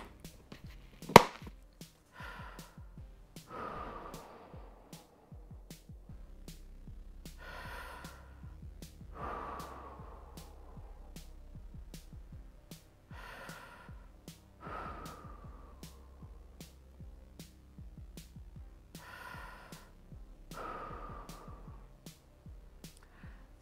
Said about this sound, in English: So I'm going to close it up and just breathe.